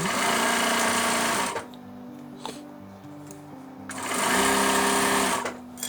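A sewing machine runs at a steady clip stitching a 0.5 cm French seam on a tote bag, with a short pause between two bursts of rapid whirring stitches.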